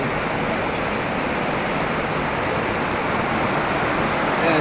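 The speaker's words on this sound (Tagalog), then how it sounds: "Sobrang lakas ng ulan." Very heavy rain pouring down over a flooding farm field, a loud steady roar of water with no break.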